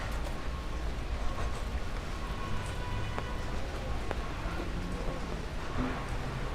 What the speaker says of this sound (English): it's been raining since then.